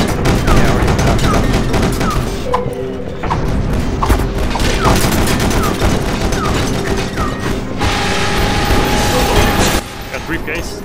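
Rapid gunfire and crashing impacts from the cyberpunk shooter game E.Y.E. Divine Cybermancy during co-op play, loud and continuous with bursts and booms throughout, with voices talking over the action.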